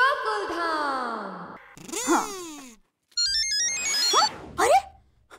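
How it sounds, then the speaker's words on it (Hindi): A mobile phone ringtone sounds for an incoming call in a comedic domestic scene, a bright electronic melody of rising and falling tones that starts after a pause, loud and close, following earlier swooping effects. "और माँ का ही फोन आ गया."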